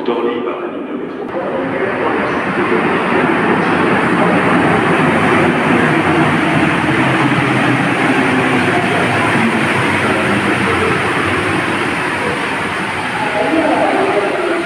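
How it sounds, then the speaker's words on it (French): A Paris metro line 14 train rides along toward Orly airport, a steady loud rumble and wheel roar filling the whole stretch with little change, sounding from inside the carriage. "moi je vais prendre le métro"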